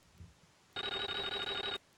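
A telephone in a video game rings once with a loud, trilling electronic burst of about a second, after near silence.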